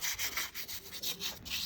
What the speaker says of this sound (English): He's scrubbing the shit out of this flagstone.